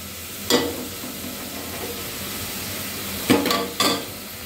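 Onions fry in oil for egg biryani with a steady sizzle, while a utensil scrapes and stirs against the pan in three sharp bursts, loud and close.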